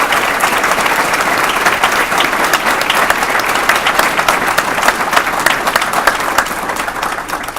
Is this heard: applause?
yes